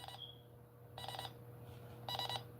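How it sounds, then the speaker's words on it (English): An alarm goes off in two short bursts of bright electronic ringing about a second apart, fairly faint over a steady low hum. "And look, the alarm is going."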